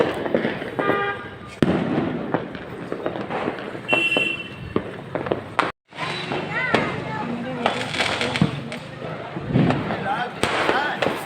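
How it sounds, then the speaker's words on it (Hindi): Diwali firecrackers burst repeatedly outdoors at a family celebration at night, sharp cracks and pops scattered across the scene with crackling bursts, amid crowd noise and voices talking. "तो यहाँ पर देखिए कितनी बमबारी कर रहे हैं, और जितना ये पटाखे छुटाते हैं"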